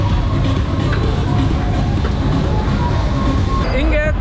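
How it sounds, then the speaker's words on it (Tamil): Steady rumbling of a miniature express train ride at a theme park, running along a track, continuous and fairly loud, with faint rhythmic clatter and a brief squeal near the end. "இங்கே குழந்தைங்க விளையாடுறதுக்கு மினி எக்ஸ்பிரஸ் ட்ரெயின் இருக்கு."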